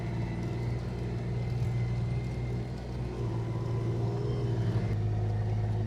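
A vehicle in low gear pushing up a small hill through snow on a lake lane while plowing, a steady low engine rumble droning close and continuous with no talking.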